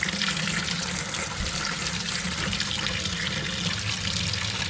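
Water gushes steadily from a tap during the install of a GASLAND propane tankless hot water heater, a loud, constant rushing flow heard alone throughout.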